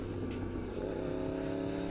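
A Yamaha R1 sport motorcycle engine held around 4,000 RPM while riding, a loud continuous droning growl that stays steady throughout.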